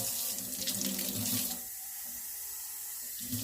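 Tap water runs into a cup being filled for basil cuttings, a loud steady splashing stream that softens and deepens partway through as the cup fills, with no talking.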